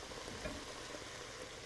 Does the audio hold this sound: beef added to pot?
yes